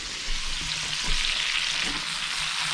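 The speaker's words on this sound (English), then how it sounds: "So tossing in my bacon crumbs." Bacon crumbs sizzle and fry in a pan of Brussels sprouts and sweet potato hash, a steady, close crackling hiss with a few soft stirring bumps.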